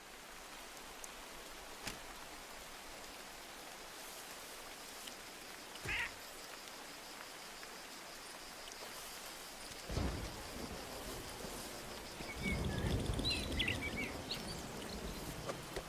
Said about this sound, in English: Lovely rain sounds in this game, I have to say.